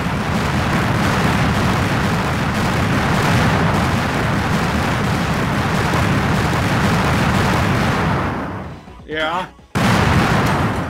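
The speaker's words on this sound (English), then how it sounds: "one of the more gratuitous explosions in this game" A gratuitous explosion in the retro shooter game Slayers X: Manchild, a long, loud rumbling roar of blast and debris that holds for about eight seconds, then cuts out abruptly. A brief spoken word comes after it.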